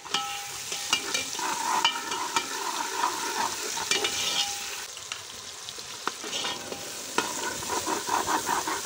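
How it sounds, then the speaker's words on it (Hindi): Garlic-ginger paste sizzles in a hot pan while a spoon scrapes and stirs it in repeated clinking strokes, steady frying crackle underneath, close and without speech. "डालेंगे लहसुन अदरक का पेस्ट"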